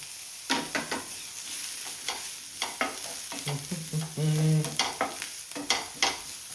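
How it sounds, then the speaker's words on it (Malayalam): Onions and garlic frying in a pan for shakshuka, a steady close sizzle broken by repeated scraping and stirring strokes, with a brief tonal clatter midway and no voices. "ഉള്ളി ഒരു ഈ പരിവാകുമ്പോൾ നൈസായിട്ട് നമ്മുടെ വെളുത്തുള്ളി ഇട്ട് കൊടുക്കണം."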